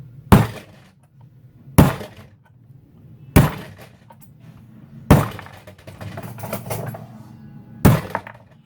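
Five sharp, loud hammer whacks on a piston hydroforming 6mm Dasher brass into a 30 Sabercat case in a die, spaced about one and a half seconds apart, each with a short ringing decay.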